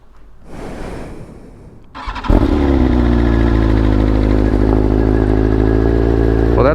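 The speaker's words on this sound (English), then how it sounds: "I've got the M1000RR here ready for a cold start" A 2021 BMW M1000RR sport motorcycle with a freshly flashed BT Moto ECU cold-starts: a short rustling lead-in, then the engine catches abruptly and settles into a loud, steady, close-up idle without high revs.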